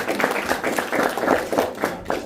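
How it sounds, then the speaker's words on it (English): A small group on an evening lantern tour gives a round of applause, a short burst of moderately close clapping with uneven claps and a few voices mixed in. "Give them a big round of applause"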